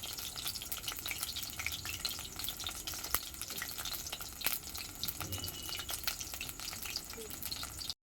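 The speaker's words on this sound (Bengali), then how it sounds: "একদম অল্প আঁচে আস্তে আস্তে করে ভাজতে হবে, লাল লাল করে ভাজতে হবে" Lentil fritters with dashtal leaves frying slowly in oil over low heat, a soft steady sizzle with occasional faint clicks and stirring taps, fairly quiet and close.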